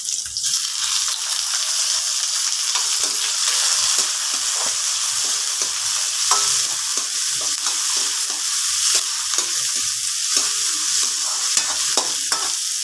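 Tomatoes sizzle steadily as they are sautéed in a pan for a Filipino sardine stir-fry with sweet potato leaves, a loud, continuous frying hiss with scattered pops and stirring scrapes throughout.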